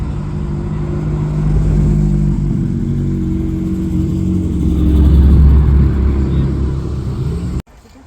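Ferrari F430 at a car meet, its engine droning loud and close with a swelling rev around the middle before cutting off abruptly near the end, with no talk over it.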